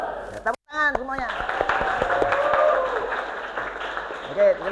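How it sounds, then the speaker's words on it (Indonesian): Students clapping their hands together in a classroom, a scattered burst of claps mixed with chatter and voices, starting after a short pause and carrying on beneath the talk. "Ya, tepuk tangan semuanya."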